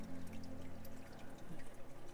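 Water pours and trickles steadily through rubble stacked above the waterline in the sump of a mandarin saltwater aquarium, a continuous close, even splashing flow with no voices.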